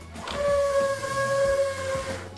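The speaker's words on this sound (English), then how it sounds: "If the squeegee begins to whistle like this," A steady high whistle with faint overtones from the squeegee of a Windsor Saber 17 automatic floor scrubber with too little water, holding about two seconds over the machine's low running rumble.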